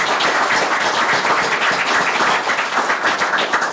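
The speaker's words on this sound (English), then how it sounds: "if you could join me in giving Doreen a round of applause and recognition" A room at a board of education meeting breaks into a round of applause for a school transportation employee, the clapping dense and steady from start to finish without a break.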